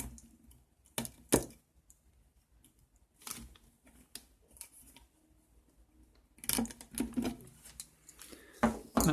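A blade cuts a circular hole in a plastic mushroom grow bag, giving close, irregular clicks and crackles in short bursts with quiet gaps between them. No one talks.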